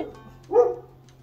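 A single short dog bark comes from outside through an open window, faint and distant in an otherwise quiet room.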